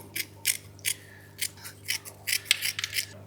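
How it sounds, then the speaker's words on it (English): Scissors snip repeatedly while trimming a plant in a terrestrial living wall paludarium, a dozen or so crisp metallic cuts in an uneven rhythm, close and clear with no talk. "I kind of want to just trim it. Now I'm going to need some good scissors."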